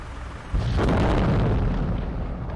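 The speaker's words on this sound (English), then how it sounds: "resulting in a massive explosion" A massive explosion from a drone strike on a convoy bursts in with a deep, heavy boom, then a loud, sustained roar and rumble of debris that barely fades.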